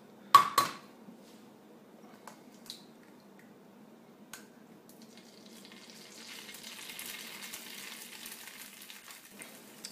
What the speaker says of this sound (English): right temperature is when you see the butter starting to bubble